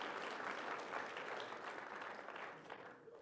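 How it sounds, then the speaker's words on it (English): Listeners at a river storytelling gathering applaud for storyteller Marika, a steady wash of clapping from a modest crowd that holds evenly and fades slightly near the end, fairly quiet and distant. "One more round of applause for Marika."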